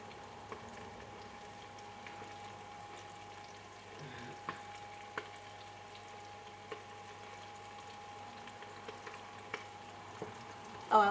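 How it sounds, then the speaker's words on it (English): Chicken gizzards coated in seasoned flour fry in a pan in batches, giving a steady low sizzle with scattered small pops and crackles throughout, fairly faint and even with no talking. "So you've got to fry them in medium-sized batches"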